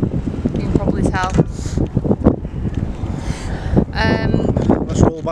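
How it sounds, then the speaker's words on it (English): Strong wind gusting across a hilltop on Rivington Pike, buffeting the microphone in rough bursts while people talk over it. "It's pretty windy up here."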